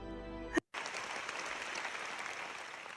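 Venice film festival audience giving a standing ovation, dense sustained applause from hundreds of people clapping continuously after a brief cut from a preceding musical tone.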